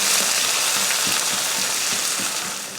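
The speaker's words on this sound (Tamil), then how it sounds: "1 பெரிய வெங்காயம், 2 பச்சை மிளகாய். இதை வதக்கிடலாம்." One large chopped onion and two green chilies sautéing in a pan with curry leaves for semiya kichadi: a loud, steady close-up sizzle with faint stirring scrapes and no talk.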